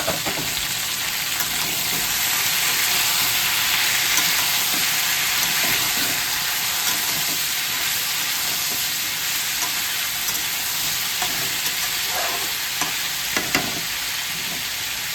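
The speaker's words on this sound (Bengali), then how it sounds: "এবার আমি একটু ঢাকাটা খুলে নাড়িয়ে দিচ্ছি।" Vegetable chorchori fries in a pan with its lid off, a steady broadband sizzle running throughout with scattered clinks and scrapes from stirring, close and fairly loud, no talking.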